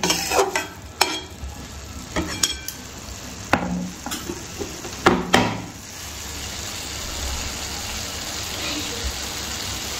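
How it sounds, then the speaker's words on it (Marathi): Dill greens for shepu bhaji sautéing in a pan, with a soft steady sizzle and repeated spatula clacks and scrapes during the first half, then a quieter continuous frying hiss. "छान परतून घ्यायचं"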